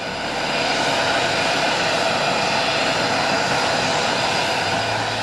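Aircraft engines drone steadily and loudly around Air Force One, the American presidential plane, as the president boards; a broad, continuous roar fills the whole stretch without pause.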